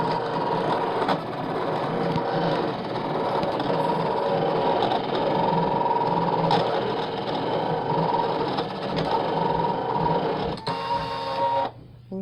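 Brother ScanNCut machine cutting a shape from a mat, a loud continuous mechanical whir with shifting motor tones and small clicks, running steadily before stopping near the end.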